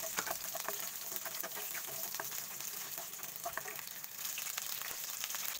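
Garlic and onion sauté in a little hot cooking oil in a pan, giving a steady, fairly quiet sizzle and crackle with occasional faint scrapes, with no talking.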